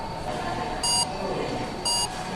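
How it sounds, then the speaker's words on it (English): Two short, bright electronic beeps about a second apart from a guidance line for blind walkers, over a steady low background hum, with no voices. "It beeps so we can go straight ahead."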